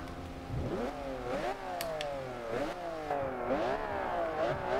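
A Ferrari Enzo sports car engine in Forza Horizon 2 revs repeatedly, pitch sweeping up then dropping between gear shifts, with a couple of sharp clicks midway; no talking.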